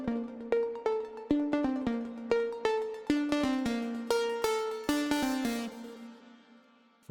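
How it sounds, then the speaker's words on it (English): A plucky synth lead from Ableton Wavetable using sine and saw oscillators plays a bright melodic pattern of short, sharply decaying notes in a regular rhythm, clear and alone, fading out at the end. "Now moving on to the lead, I used Ableton's wavetable,"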